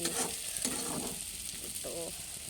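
Papad frying in hot mustard oil: a loud, close, crackling sizzle that runs throughout, with a few faint tonal sounds mixed in.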